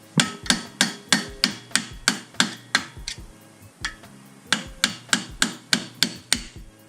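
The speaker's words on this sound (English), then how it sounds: "and then just hammer the axle out." Sharp metallic hammer blows ring out in a steady rhythm, around a dozen close strikes knocking out an FRS/BRZ/86 axle, with a brief pause midway before the pounding resumes.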